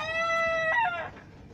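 A hen or rooster calls out in a farmyard, a loud, close harmonic squawk lasting about a second that rises and breaks at the end, followed by faint background noise.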